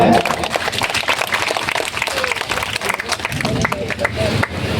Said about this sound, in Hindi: शॉल एवं पुष्प जोरदार ताली हो जाए